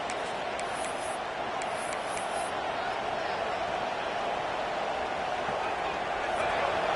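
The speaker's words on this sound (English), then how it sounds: "Listen to this crowd just shaking the girders of this place, trying to help their defense." A stadium crowd in an NCAA 26 college football video game keeps up a constant broad roar through the whole stretch, moderately loud and unbroken, with faint higher chatter and whistling on top.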